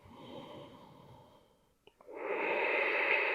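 Slow breathing during a yoga side stretch: a long, soft exhale fades out, a couple of tiny clicks follow, then a fuller, louder inhale builds and holds, close and with no talk.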